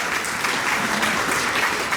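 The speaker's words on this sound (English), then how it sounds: "we can applaud people who have degrees" A town hall crowd in Jonesborough, Tennessee, claps in a dense, sustained burst of applause that fills the room, with no speech over it.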